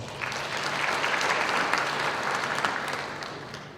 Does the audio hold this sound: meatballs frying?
no